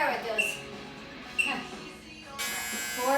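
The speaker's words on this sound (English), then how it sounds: "where is that buzzer?" A workout timer buzzer sounds during a cardio kickboxing class, a steady electric buzz switching on near the end and holding, after a couple of short blips amid room noise.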